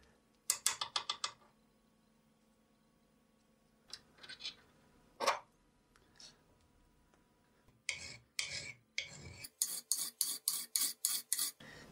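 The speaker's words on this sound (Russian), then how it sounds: "Работу выполняю ножовкой" Hacksaw strokes rasp through metal in bursts, a few irregular cuts followed by a steady run of about a dozen rhythmic strokes, close and alone, in an apartment workshop.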